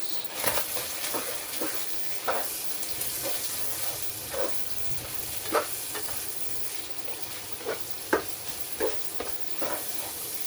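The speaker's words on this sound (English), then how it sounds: "And just keep mixing this till the onion is softened." Chopped brown onion frying in a non-stick pan for spaghetti Bolognese, a steady close sizzle broken by periodic scraping strokes of a stirring utensil.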